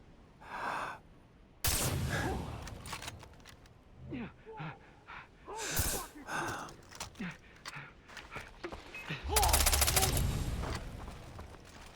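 Sporadic gunfire bursts in the video game Far Cry 3 break out in loud, dense clusters between stretches of quieter game sound, with a voice gasping and talking throughout.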